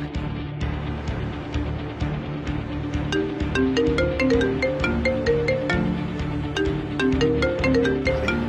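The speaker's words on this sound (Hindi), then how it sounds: "ईशान का कॉल यहाँ क्यों बज रहा है?" A mobile phone ringtone plays a repeating electronic melody, loud and close, looping steadily with no voices.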